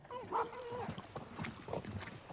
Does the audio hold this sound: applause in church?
no